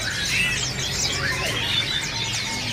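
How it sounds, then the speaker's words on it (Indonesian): A cicak ranting songbird sings in a bird shop, bright rapid chirps and trills repeating over a steady background of other birds and room noise. "Di atas ini juga ada burung cicak ranting gacoran ya."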